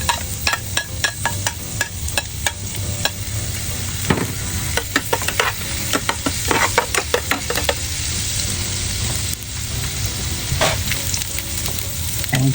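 Garlic frying in a pan for squid cooking, a loud continuous sizzle punctuated by many sharp clicks and taps of a utensil stirring against the pan, close up with no voices.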